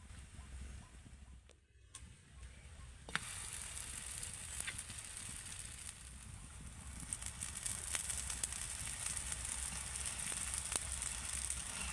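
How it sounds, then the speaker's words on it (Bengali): Semolina lachha paratha fries in oil in a pan with a steady sizzle and crackle and occasional sharper pops, rising slightly louder after a brief dip near the start. "তেলটা দিয়ে ভাজার সঙ্গে সঙ্গেই কিন্তু পরোটার লেয়ারগুলো কিন্তু ছেড়ে যাচ্ছে"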